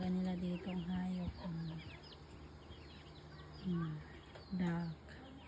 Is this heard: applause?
no